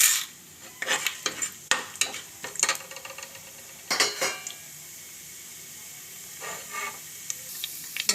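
Chana dal and urad dal hitting hot oil for a tempering, with mustard seeds already popped, giving a soft sizzle broken by repeated clinks and scrapes of a spoon stirring in a pan.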